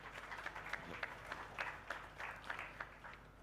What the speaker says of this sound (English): Round of applause for Shiv.